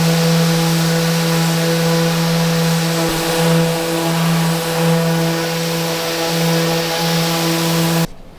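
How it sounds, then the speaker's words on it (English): A power sander works wooden cabinet trim aboard a wooden sailing boat, giving a steady, loud motor whine with a gritty abrasive hiss that runs unbroken for several seconds before cutting off abruptly. "That's all sanded now."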